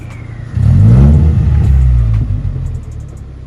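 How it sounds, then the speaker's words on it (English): A Datsun 620 pickup with a swapped BEAMS engine revs hard close by, a deep throaty rumble that surges loudly, holds for a couple of seconds, then eases off slightly. "Y'all hear the beams."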